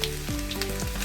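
Cumin, ginger and garlic sizzle steadily in hot oil in a pan, a dense close crackle with faint stirring scrapes and no voices.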